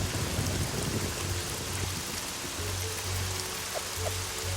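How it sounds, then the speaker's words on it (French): Steady rain pours down in the Evoland II video game, a dense continuous hiss of falling water with a faint low rumble underneath and no voices. "c'était chiant un peu cette pluie là"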